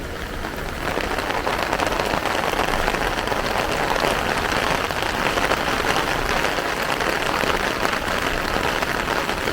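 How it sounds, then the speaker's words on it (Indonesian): Heavy rain in Japan patters densely and steadily on surfaces nearby, a continuous hissing downpour with no voices. "Wah, hujan nih."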